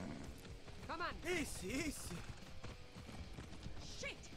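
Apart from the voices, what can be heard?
horse hooves in a video game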